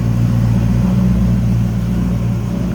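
A 1979 Chevrolet El Camino with shorty headers, HEI ignition and an automatic transmission runs steadily, a loud, close, deep engine rumble holding an even idle throughout.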